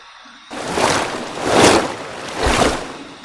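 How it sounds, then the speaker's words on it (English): Cold tap water runs and splashes in steady rushing surges, loud and close, during a post-shave face rinse, with no talking. "Here's my cold water rinse."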